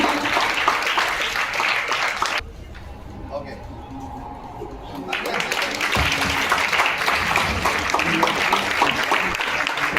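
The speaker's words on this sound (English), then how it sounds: "Please give him a round of applause for" Audience applause at an award ceremony for an English coaching academy's champions, loud and sustained across most of the clip with a brief quieter gap early on, while an announcer speaks over it.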